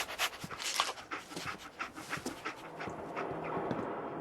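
Dogmeat, the dog companion in Fallout 4, pants close up in a quick, rhythmic series of breaths with a faint whimper, the panting easing into a softer ambient hum near the end.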